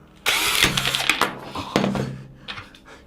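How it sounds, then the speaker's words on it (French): A power drill fitted with a universal bit backs a screw out, with a loud whirring burst from start, a brief pause, then a second shorter run and fading tail. "On va donc prendre une perceuse, on insère l'embout dans la perceuse et on démarre."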